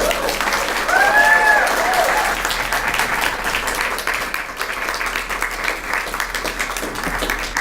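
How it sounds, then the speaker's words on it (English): An audience at a poetry reading breaks into warm applause for the poet Marsha de la O, dense clapping that swells early and then eases off but keeps going to the end, with a few faint voices underneath. "I ask you to applaud my sister in poetry"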